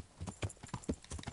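Horse hooves clip-clop in steady, close, repeated steps while riding in the video game Kingdom Come, with no talk over them.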